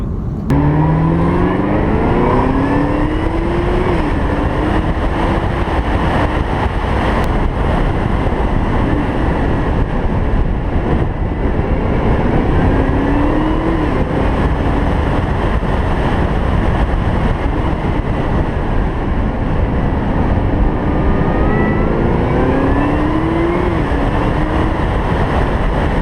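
A Chevrolet Camaro ZL1 with a 10-speed automatic accelerates hard, its loud engine roaring steadily and rising in pitch through repeated quick upshifts, close and continuous with no talking.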